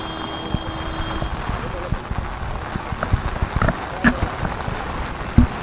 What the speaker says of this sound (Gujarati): ત્યાં વરસાદ ભારે પવન સાથે છે